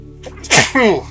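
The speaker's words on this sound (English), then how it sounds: "I'm going to sneeze here in about 2 seconds." A single sharp human sneeze, with a short breathy intake followed by a loud explosive burst and a voiced tail, close to the microphone.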